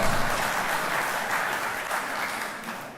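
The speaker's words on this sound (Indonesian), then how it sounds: "Hadirin, mau tepuk tangan?" An audience at a Muhammadiyah gathering in a school hall applauds with steady, dense clapping that fills the whole stretch at moderate loudness, with no talk over it.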